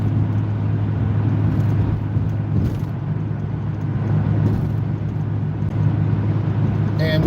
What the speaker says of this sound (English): we're passing on the left of the semi-truck